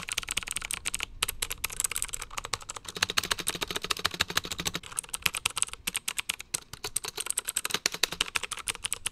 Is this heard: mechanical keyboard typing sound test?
yes